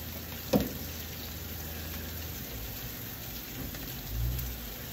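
Bacon and eggs sizzle on a Blackstone griddle outdoors at a barn, a steady crackling hiss running throughout with a brief louder pop near the start and a low swell near the end.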